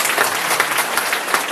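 An audience claps together in dense, steady applause at a business opportunity presentation, loud and close, lasting only a moment.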